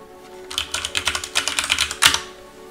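Rapid keystrokes on a computer keyboard entering commands into a mainframe terminal running the Michigan Terminal System, a steady close patter of clicks ending in one louder key strike, with no talking.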